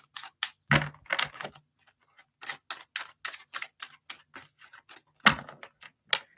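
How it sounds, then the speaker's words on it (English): Tarot cards are shuffled in an uneven series of crisp, close snaps and riffles, with short pauses between bursts and no voices. "I feel like spirit wants me to keep shuffling."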